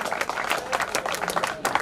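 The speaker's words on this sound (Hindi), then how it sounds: "जोरदार तालियां, स्वागत, अभिनंदन।" Audience applause at a sports closing ceremony for Indian dragon boat team selection, as a CRPF athlete is welcomed; dense, steady clapping from a crowd fills the whole moment.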